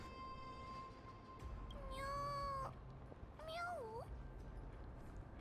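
A Flame Reaver in Honkai: Star Rail lets out two rising and falling cat-like meows, the first longer and the second wavering, fairly clear over a low background hum.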